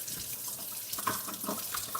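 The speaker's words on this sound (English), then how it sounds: "by turning on the hot water here" Hot water runs from a kitchen tap into the sink during dishwashing, a steady splashing stream with small uneven gurgles and spatters, close and alone.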